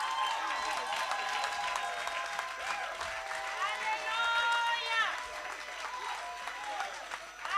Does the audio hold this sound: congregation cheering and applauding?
yes